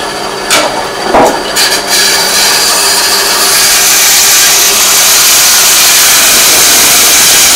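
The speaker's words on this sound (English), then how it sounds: "Make the drilling." A power drill bores a hole during a handmade miniature build, with a few sharp clicks at first and then a loud, continuous grinding whine that holds steady throughout.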